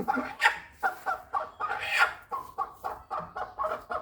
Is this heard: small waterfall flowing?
no